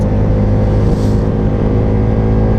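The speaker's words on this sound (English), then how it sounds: "inside the tunnels, you have to hear how the sound is echoing in your head" A V4 cruiser motorcycle engine roars loud and steady, its dense rumble reverberating in a tunnel.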